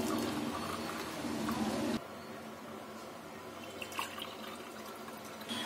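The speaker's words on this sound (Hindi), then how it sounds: "अब ये कप में डालेंगे।" Strained Hyderabadi Irani dum chai poured into a cup: a steady, close liquid stream for about two seconds, then a quieter trickle and a few drips.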